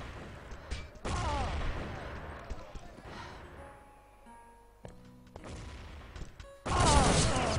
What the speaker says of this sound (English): Oh, that was a really good nade by Becca.